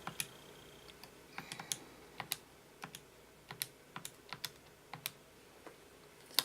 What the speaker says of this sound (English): I can type that into my calculator.